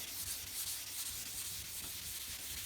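Fine 600-grit sandpaper is worked by hand over primer on a pickup truck panel, giving a soft, continuous close-up rubbing hiss with gentle strokes and no pauses.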